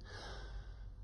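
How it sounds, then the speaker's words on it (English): A single breath drawn in through the mouth during a singing breathing exercise, a soft, close, airy inhale lasting about a second with nothing else heard. "Breathing in."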